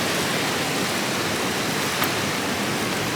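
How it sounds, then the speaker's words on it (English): Rain falls steadily at Canyon Falls as a dense, uniform hiss. A broad wash of outdoor water noise runs unbroken throughout, with no voices. "It's still raining."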